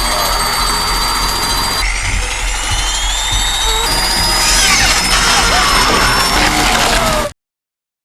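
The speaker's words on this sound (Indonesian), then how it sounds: "akhirnya mereka memisahkan kulit itu dengan gergaji listrik" An electric saw cutting through skin, giving a loud, continuous mechanical whine whose pitch shifts and climbs, running unbroken for about seven seconds before cutting off abruptly.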